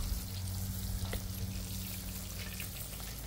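Garlic bread sizzles steadily on a hot Blackstone griddle, a dense, close, continuous frying hiss with faint crackles and no talking.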